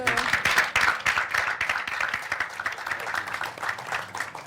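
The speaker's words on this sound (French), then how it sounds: "on va applaudir" An audience at a French film screening and debate applauds, dense clapping from many hands filling the room, with some voices talking faintly underneath.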